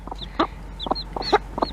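Several short clucks from baby chicks in quick succession, close by, with soft high peeps mixed in.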